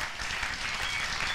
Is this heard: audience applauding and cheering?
yes